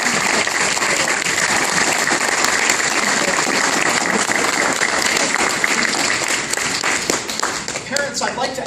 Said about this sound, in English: please join me in one more big round of applause for Miss